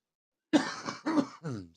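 A few close, raspy coughs and throat clears follow one another in quick succession after a brief silence.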